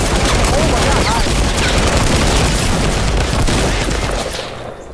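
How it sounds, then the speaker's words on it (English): Dense, continuous gunfire from the Fortnite video game during a three-versus-all squad match, loud and sustained for several seconds, thinning out at the very end, with voices talking over it. "There's someone else shooting."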